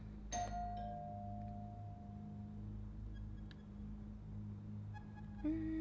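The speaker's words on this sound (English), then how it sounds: "let's ring the doorbell again" A doorbell chime rings in a video game, a bright tone that lingers and slowly fades, then rings again briefly near the end over a steady low background hum. No one speaks.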